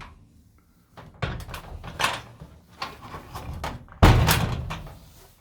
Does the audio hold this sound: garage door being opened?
yes